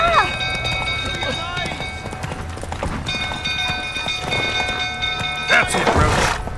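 Roach, a horse in The Witcher 3, gallops with rapid hoofbeats under shouting voices and game sounds, ending in a louder thudding burst.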